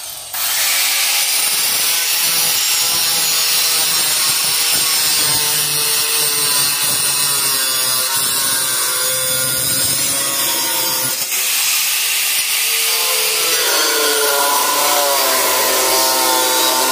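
An angle grinder fitted with a cutting disc cuts through dry cement board, a loud, close, harsh whining grind that runs steadily for the whole stretch, its pitch shifting as the disc bites and then eases near the end.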